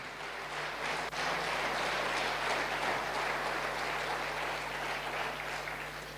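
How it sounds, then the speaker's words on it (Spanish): Congregation applause during a church service, a steady wash of many hands clapping throughout, fairly distant, over a low constant hum. "Dale un aplauso al Rey."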